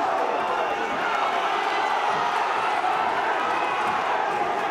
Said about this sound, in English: People standing up cheering all around this arena.